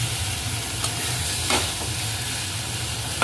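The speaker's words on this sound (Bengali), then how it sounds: "বেগুন দিয়ে মেথি শাক ভাজা" Fenugreek greens and brinjal stir-frying in a pan, a steady close sizzle with a few soft scraping stirs, no voices.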